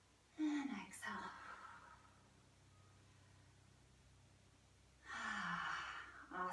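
A slow yoga exhale, a soft breathy rush near the microphone that swells and fades, with a second exhale a few seconds later after a quiet pause.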